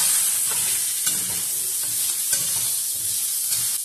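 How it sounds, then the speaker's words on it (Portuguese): Pork sizzling in a very hot pan with olive oil, a steady close hiss and crackle with faint stirring scrapes, no voices. "Frigideira bem quente. Vou adicionar a carne."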